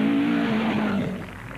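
A rally car engine at the 1981 Manx Rally drones loudly and then winds down as the revs fall away, with a rough, fading tone.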